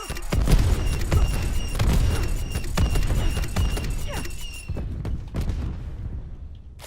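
A War Machine grenade launcher firing in Call of Duty Outbreak mode, several heavy booming blasts in quick succession with crackling debris, loud and close, fading toward the end.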